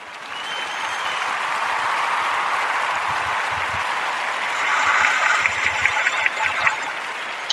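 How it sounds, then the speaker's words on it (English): Steady, fairly loud applause from a crowd, played on a podcast sponsored by iHeartRadio, holds as a dense hiss of clapping and swells a little louder near the end, with no speech over it. "we always try to give a round of applause for that"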